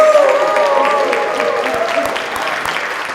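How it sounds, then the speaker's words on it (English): Audience applause at a fatherhood summit, a steady patter of clapping from a crowd that stays fairly even and slowly thins, with a voice talking faintly over it. "let's give them a round of applause"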